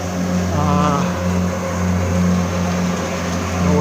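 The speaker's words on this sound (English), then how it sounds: "I'll wait until this tractor gets by." A tractor driving past outdoors, a loud continuous low engine rumble with a droning hum that swells slightly near the end.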